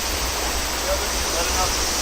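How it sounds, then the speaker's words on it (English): Small mountain runoff stream near a footbridge in the hills of Fukuoka, Japan, giving a steady, loud broadband rush of flowing water that continues unbroken throughout. "It's a little mountain runoff to the bridge right here."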